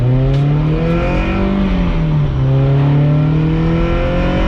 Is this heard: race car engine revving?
yes